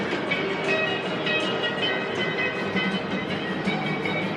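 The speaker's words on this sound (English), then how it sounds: "You can get the monorail." A Disney monorail train rolls past in a continuous, fairly close rumble with a faint rhythmic clatter and a whining hum across the whole stretch, and no voices.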